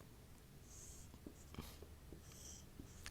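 A pen drawing three axes on a board during a biology lesson, faint scratchy strokes in short bursts with small taps between them, quiet and close.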